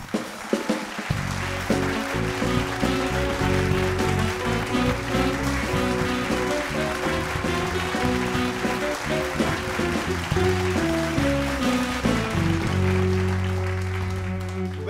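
A talk-show studio audience applauds as a guest is welcomed, but loud band music with sustained tones dominates throughout while the clapping stays blended underneath.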